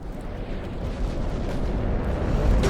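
Heavy 18-inch battleship shells striking a destroyer in a naval warfare game, a dense continuous rumble of blasts building slightly in loudness across the clip, with no clear separate impacts.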